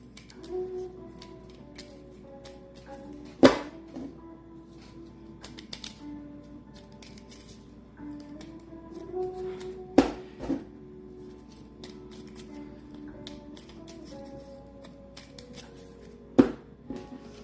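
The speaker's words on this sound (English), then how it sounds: "And then you shuffle." Cardboard board game tiles for Minerva are shuffled on a table, giving a soft, continuous sliding clatter broken by a few sharp knocks, quiet and close with no talk.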